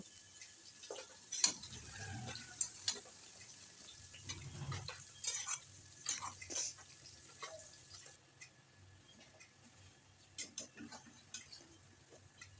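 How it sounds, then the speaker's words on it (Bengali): Cabbage with salt and turmeric cooks in a pan, a faint low sizzle broken by irregular clicks and scrapes of stirring utensils, with a little quiet talk at moments. "এটা দিয়ে বাঁধাকপি থেকে যতটুকু জল বের হয়েছে তত সময় পর্যন্ত আমরা এটাকে রান্না করে নেব।"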